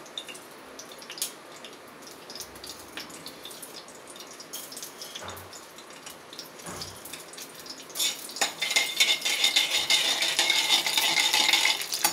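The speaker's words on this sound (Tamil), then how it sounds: "கடுகு வெடிக்கட்டும்" Mustard seeds pop and crackle sharply as they sizzle in hot oil, growing denser and louder toward the end.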